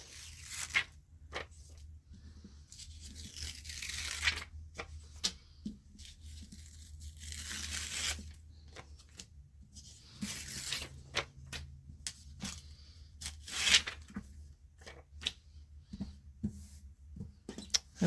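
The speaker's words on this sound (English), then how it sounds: "peel it like a band-aid" DTF transfer film being peeled off a 100% cotton shirt: crackling, tearing rips and crinkles that come in uneven spurts over a low steady hum, close and fairly quiet, with no talking.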